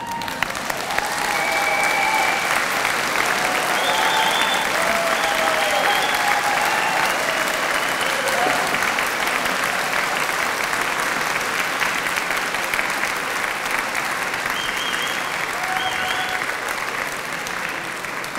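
Graduates at an Open University degree ceremony in Birmingham stand and applaud their families, a dense, loud, sustained ovation from a large hall crowd that rolls on evenly for many seconds, with faint cheers and voices mixed in.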